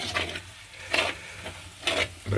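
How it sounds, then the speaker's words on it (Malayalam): Spices such as chilli, turmeric and coriander powder being stirred in a pan, giving three or four distinct scraping strokes over a low frying hiss, close and fairly quiet, with no talk. "നമുക്കതിനെ വീണ്ടും ഇളക്കി ഇത് യോജിപ്പിക്കണം"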